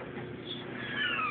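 A house cat meows indoors, a soft drawn-out call rising in pitch toward the end, moderately close and alone without talk.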